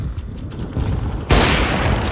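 A grenade goes off in Counter-Strike: Global Offensive, a loud, sudden burst of broadband noise that stays dense and sustained after the initial hit, with a quieter rumbling passage before it.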